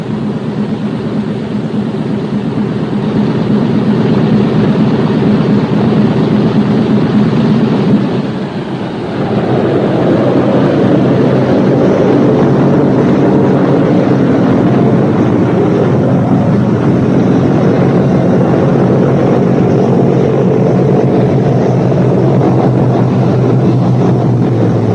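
Big radial piston engines of a 1943 B-17 bomber roar loud and continuous, dipping briefly then surging back at higher revs and holding a heavy droning rumble to the end.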